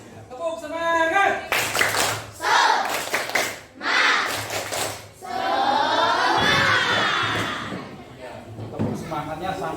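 A classroom of students performs a rhythmic clapping chant, with bursts of synchronized hand claps alternating with chanted voices. It is close and lively, and ends with a long shouted group call.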